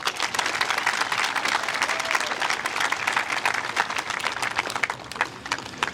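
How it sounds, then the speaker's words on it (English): Warm, continuous applause rises from an audience at a graduation culmination ceremony, a dense wash of many hands clapping for several seconds at steady loudness. "One more round of applause for them, please."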